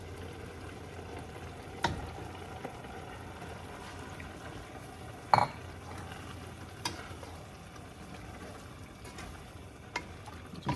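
Diced swai fish stirred into a covered pot of simmering cucumber rice soup in tomato sauce, with a soft steady bubbling and a few faint utensil clinks and scrapes against the pot.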